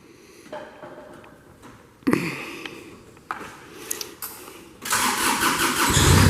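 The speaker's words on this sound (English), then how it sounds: "Hear that Kubota come to life." The Kubota engine of a 2009 Moffett M45P truck-mounted forklift cranks with a few short bursts, then catches and runs with a loud, steady mechanical roar, close by.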